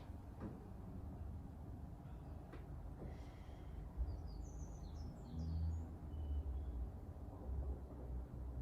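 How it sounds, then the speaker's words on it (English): Faint, distant birds chirp outdoors in a few brief high bursts over a quiet low background rumble, with some soft thuds nearby. "I can hear birdsong, I can hear work going on here"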